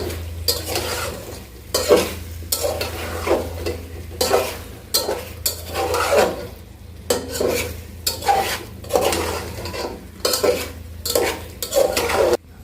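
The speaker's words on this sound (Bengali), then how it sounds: "এখন হচ্ছে আমি ভাজা মাংসগুলো দিয়ে দিলাম আর দিয়ে ভালো করে একটু কষাই নিব" Fried meat stirred in spice paste in a pot, a steady sizzle with repeated scraping of a metal spoon against the pan, close and loud with no talking.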